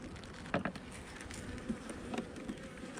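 Bees buzz around an open hive, a faint, continuous drone with a few louder passes as individual bees fly close.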